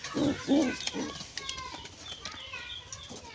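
Low, soft coos from pigeons with squabs repeat a few times close by, followed by faint rustling and scattered chirps in a quiet room.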